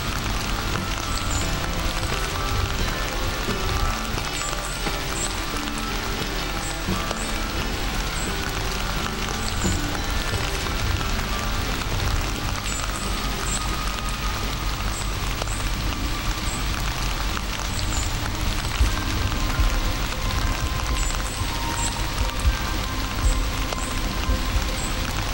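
Early morning rain falling in a foggy forest, a steady close hiss of drops pattering on leaves and ground with no letup.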